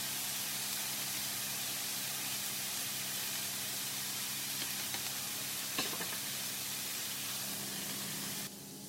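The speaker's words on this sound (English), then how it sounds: "Macaroni still boiling." Macaroni boiling in a pan on a kitchen stove gives a steady, close, broadband hiss with a faint bubbling texture that runs unbroken throughout and softens slightly at the very end.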